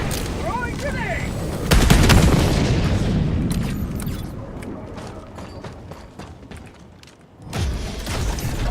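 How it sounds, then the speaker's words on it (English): A grenade blast in the Helldivers 2 video game lands as a loud, sudden boom around the two-second mark, with a long rumbling decay under steady battle noise, then a second burst near the end. "Throwing grenade!"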